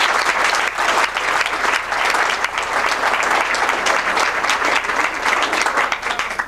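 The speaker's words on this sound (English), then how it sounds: "if we could just give the staff of KCC a round of applause." Loud, sustained applause from a dinner audience at a community college foundation scholarship event, dense clapping that fills the room evenly from start to finish without talk.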